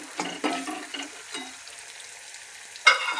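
A spoon stirs masala and chutney in a hot pan for dal dhokli, giving soft scraping sizzles in a few short strokes followed by a brighter clink near the end, with no talk.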